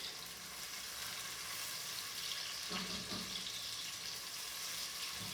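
Onion sizzles and fries steadily in a pan on the stove, a continuous soft crackle with a few brief clinks partway through, with no voices.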